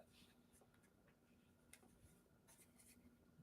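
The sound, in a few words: writing on a paper pad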